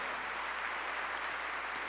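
Congregation applauding during a church sermon, a continuous soft wash of many hands clapping at a distance, even and unbroken, with no voice on top.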